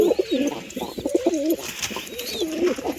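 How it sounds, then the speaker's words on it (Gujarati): Several pigeons coo in close, repeated throaty phrases, with a white female pigeon among the flock returning to sit on her eggs, alongside brief higher chirps in the background. "સફેદ કબૂતરની માદી તો ઈંડામાંથી બેસવા આવે છે"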